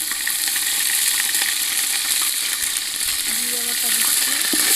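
Duck meat with ginger garlic paste frying in hot oil, a steady, loud sizzle with occasional stirring scrapes, with no talking.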